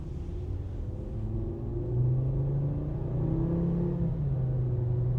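A 2013 Volkswagen Golf MK6 with a 2.5 five-cylinder engine accelerates at about half throttle, giving a steady, rising engine drone and low rumble heard from inside, continuous and fairly loud, without talking.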